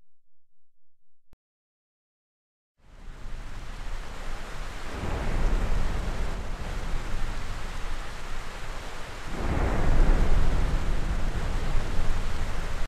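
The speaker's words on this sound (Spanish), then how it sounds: "está tronando, espero que no se vaya la luz" Deep rumbling thunder in GTA San Andreas, a broad roaring swell that builds after silence and rolls again more loudly, with steady rain-like noise throughout.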